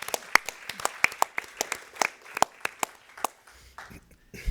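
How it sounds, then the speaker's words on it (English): Applause from a small conference session audience, a few scattered hands clapping in an uneven, sparse rhythm that thins out and fades near the end. "I think we need to give that a round of applause."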